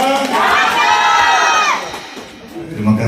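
A crowd of young people at a golden wedding anniversary celebration cheers and shouts loudly in unison, the voices fading before a brief renewed burst.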